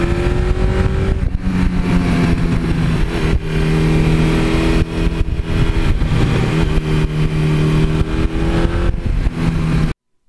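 A 1982 Suzuki GS1100E motorcycle engine runs loud and close while riding, holding a steady drone with shifting pitch as the throttle rises and eases, alone with no talk.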